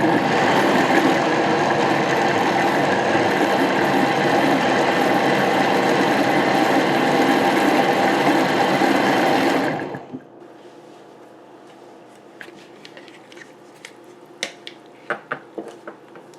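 Blender running at full power on jalapeño sauce, a loud steady whirring drone for about ten seconds that cuts off abruptly, followed by quiet clicks and taps.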